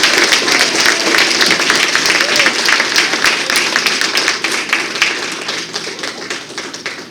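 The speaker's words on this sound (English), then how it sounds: "Can we give a round of applause for the huge group that Sister Alice brought with her today?" Loud, dense applause from a close crowd at a women's history awards ceremony, honoring a visiting group with continuous vigorous clapping that tapers slightly near the end.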